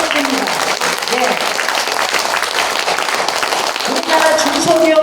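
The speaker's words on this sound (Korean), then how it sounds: "여러분 박수 치려면 제대로 치세요." Steady, loud audience applause fills a lecture hall during a special talk at a world Korean women's conference held in a National Assembly conference room, with voices and some tonal sounds mixed in throughout.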